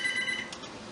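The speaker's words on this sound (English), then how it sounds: "Mom's phone's ringing." A mobile phone rings with a thin electronic tone in a home kitchen where cookies are being made, heard faintly in the room over low background noise.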